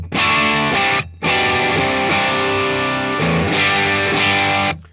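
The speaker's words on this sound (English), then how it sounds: "I'll just kick on a boost." An electric guitar played through an amp with a boost pedal kicked on, loud crunchy distorted chords ringing out with two short pauses, close and alone without talk.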